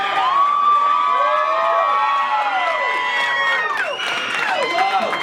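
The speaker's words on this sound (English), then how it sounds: "You can fucking applaud, that's pretty good." Wedding guests at a pub cheer and shout over a steady wash of crowd noise, with rising and falling whoops from many voices, loud and close throughout.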